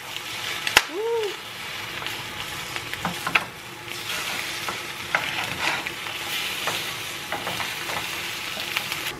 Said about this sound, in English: Let me get my spatula to flip the eggs over.